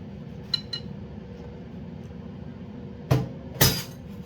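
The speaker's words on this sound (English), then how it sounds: "I broke my glass, really." A drinking glass breaks indoors: a light clink, then two sharp, bright shattering crashes in quick succession over a low background hum.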